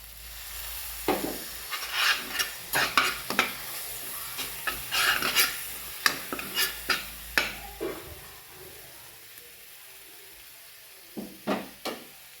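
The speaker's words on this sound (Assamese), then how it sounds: "অলপ দেৰি পানী দি ভাজিম।" Mustard and fish paste frying with a splash of water while being stirred, with a soft sizzle under repeated scraping and tapping strokes of a spoon against the pan, irregular and close, fading to quieter taps near the end.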